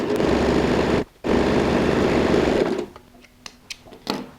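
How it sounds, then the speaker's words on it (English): A sewing machine sews a top stitch along the binding of a DIY pyramid-style handbag, running loud and close in two steady bursts with a brief stop between, then a few quiet clicks as it halts. "Place the edge of this white fitting to the edge of my binding and sew a top stitch."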